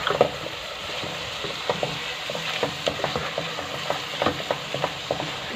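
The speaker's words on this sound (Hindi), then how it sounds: "भूनेंगे इसको भी हम बहुत अच्छी तरह से।" Vegetable kofta mixture with chopped green chilies is fried and stirred in a pan, a low, steady sizzle punctuated by quick rhythmic scraping clicks of the spoon.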